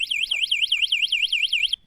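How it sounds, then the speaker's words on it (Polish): The anti-theft alarm of a DYU A5 folding electric bike wails in a rapid, steady up-and-down electronic siren tone, loud and close, cutting off abruptly near the end. "ten rower jest wyposażony w alarm, który możemy aktywować w każdej chwili"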